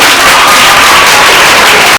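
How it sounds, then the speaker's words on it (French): A large audience at an NGO awareness event in Africa applauds steadily, a dense, loud wash of clapping with some crowd noise that holds for the whole stretch before cutting off. "je veux que nous tous ici, nous l'applaudissions beaucoup"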